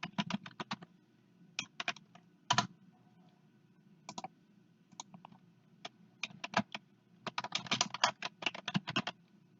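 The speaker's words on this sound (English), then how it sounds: "type in the name of the font" Typing a font name on a computer keyboard: quiet, close key clicks in irregular bursts with short pauses, growing denser toward the end, with no talking.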